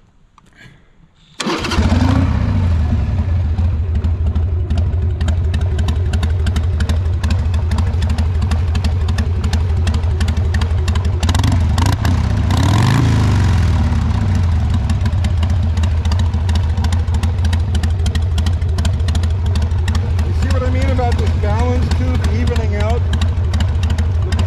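A 1999 Harley-Davidson Sportster cranks and fires after a brief quiet start, then settles into a loud, close, steady rumbling idle with occasional revs, and a voice speaks over the running engine.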